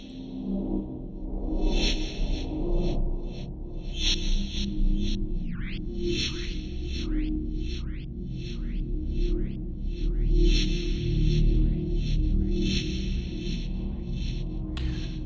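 A drawn-out, ghostly synth tone swells and fades with heavy reverb, while a run of rising swooshes repeats in the middle over a low rumbling bed.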